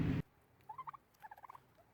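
Soft, low clucking and gobbling from chickens feeding on garden waste in short rhythmic bursts, fairly quiet and close, after a brief loud rustle at the start.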